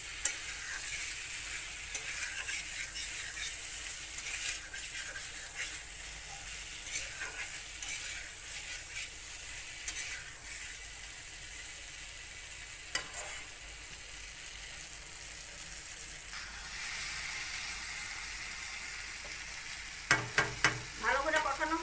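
Curry sautéing and being stirred in a pan, a steady low sizzle throughout with scattered faint scraping ticks and a few sharper clatters toward the end.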